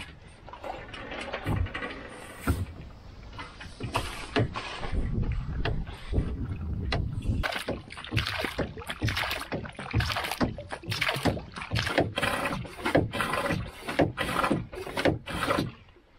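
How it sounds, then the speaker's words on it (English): A hand pump sloshes and rasps as rainwater is pumped out of a small dinghy outdoors, repeated close-up strokes and watery rubbing sounds continuing steadily throughout, with some wind on the microphone. "still got a bit of pumping to do to get that out"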